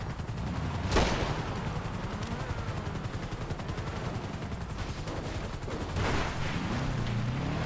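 Sustained GTA V gunfire from a vehicle chase, with rapid automatic bursts and sharp loud cracks near the start and again toward the end over a dense, continuous rattle.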